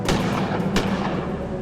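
Two sharp gunshots fired in the video game Gemini Rue, in quick succession, each a loud crack with a brief decaying tail.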